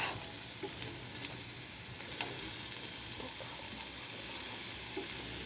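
Food sizzles and fries in a pan over a gas flame while being stirred, with a steady close crackling hiss and occasional scraping clicks of the spatula, and no voices.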